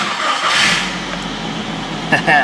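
A Nissan Frontier pickup engine cranks and fires, settling into a loud, close idle with a brief rev, under some indoor noise.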